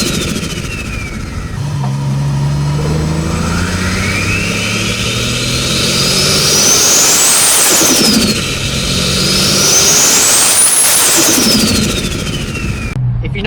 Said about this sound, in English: I'll roll into some clips now of some boosting clips and an engine bay clip with the mic.